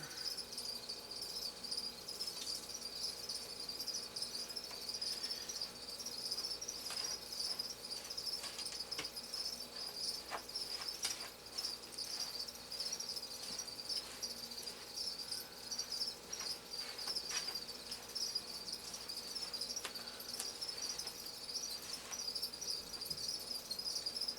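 Crickets chirp inside a breeding container, a faint, continuous high trilling that never stops and has no voices over it.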